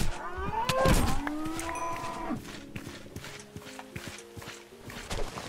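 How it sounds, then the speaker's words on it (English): Cows in the Minecraft video game moo several times in quick succession, loud and close, with clopping footstep sounds in between and no talk. "There's just so many cows right here."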